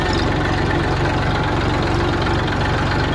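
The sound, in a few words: tractor engine idling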